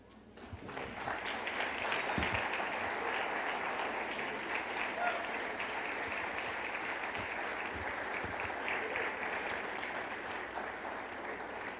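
Applause from an audience at a regional Christmas celebration rises suddenly and holds as a full, sustained crowd clapping for several seconds, with faint voices mixed in.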